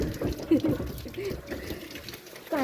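Water poured during a bath at home, with soft, uneven splashing and trickling close by that comes and goes in small bursts, fairly faint overall.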